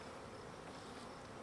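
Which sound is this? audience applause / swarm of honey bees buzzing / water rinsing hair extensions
swarm of honey bees buzzing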